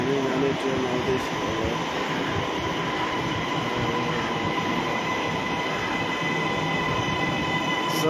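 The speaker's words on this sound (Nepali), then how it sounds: "हामी जाने ट्रेन आउँदैछ।" A metro train pulls into a station, a loud, steady rumble of wheels on rails with screeching squeals throughout, close by and continuous, with waiting passengers faintly audible.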